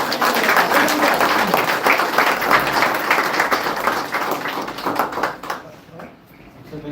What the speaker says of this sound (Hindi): तो जोरदार तालियों से स्वागत करें।